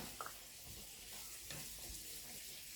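Noodles for Pennsylvania Dutch ham pot pie are stirred in a pot, giving faint, soft scrapes and light knocks over a low background hiss.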